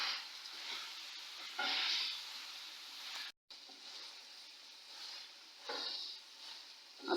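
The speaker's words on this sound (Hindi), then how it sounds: "अभी इसको और फ्राई करेंगे ताकि ये अच्छी तरह फ्राई हो जाए।" Arvi (taro) and baingan (eggplant) fry in a pan with a steady close sizzle and hiss, swelling into louder bursts at intervals as the pieces are stirred, with no talking.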